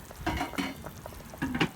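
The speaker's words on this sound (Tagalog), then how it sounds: "malakas na ang kulo ng tubig" Bubbling, churning liquid rumbles in uneven bursts, like water boiling hard in a pot, close by with no speech.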